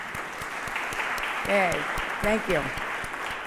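Audience applause at a committee panel event, steady clapping throughout while someone briefly speaks over it.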